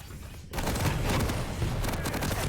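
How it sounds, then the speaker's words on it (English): A fire strike ability goes off in an arena shooter match, a dense sustained crackling burst of fire and blasts that kicks in abruptly after a brief quieter moment and keeps roaring loudly to the end. "Ooh, fire strike gets used."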